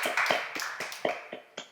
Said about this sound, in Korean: 박수로 한번 드리세요.